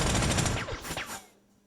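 Rapid machine-gun bursts rattle against a tank in the World War II strategy game Panzer Corps, a dense clatter of shots lasting about a second before cutting off into quiet.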